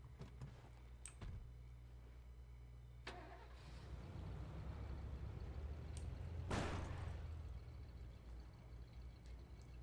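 Blue truck in a State of Decay video game cranking and starting, the engine catching and settling into a low idle, with a brief whoosh and clicks, no voices.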